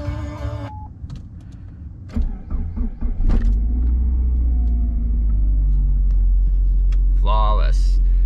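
A high-mileage Saab 9-5 Aero is cold-started on a chilly day after sitting two days: a brief cranking whir, then the engine catches and settles into a steady low rumbling idle, with a short electric whine near the end.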